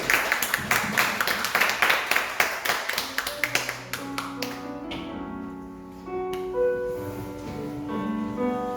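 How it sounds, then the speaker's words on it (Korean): Congregation applause during a youth worship service at a church, steady clapping for about four seconds that fades as piano and sustained instrumental tones take over. "우리 하나님께 영광의 박수를 드립니다"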